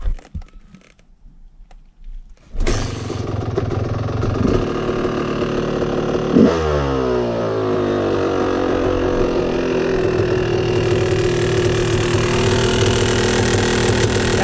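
A Yamaha YZ250 two-stroke dirt bike engine fires up after a quiet start and settles into a steady, buzzy idle, close and loud, with a brief rev that falls back to an even putter.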